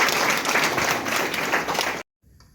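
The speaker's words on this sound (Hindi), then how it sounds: "जोरदार ताली से अभिनंदन करते हैं।" A crowd at an honoring ceremony welcoming a guest teacher breaks into loud, dense applause for about two seconds, then it cuts off abruptly to near silence.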